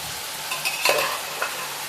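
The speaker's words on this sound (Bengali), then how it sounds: "মশলাটার কাঁচা গন্ধটা চলে যাওয়া পর্যন্ত নাড়াচাড়া করতে হবে" A spatula stirs spice paste frying in a pan for a potato curry, giving a loud close sizzle with a couple of sharp scraping strokes. No speech.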